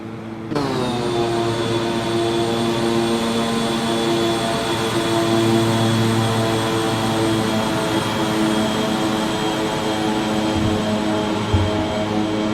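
A general aviation Scottish Air Ambulance aircraft in X-Plane 12 runs its engine in a loud, steady drone with a strong whining hum that holds level throughout the flight.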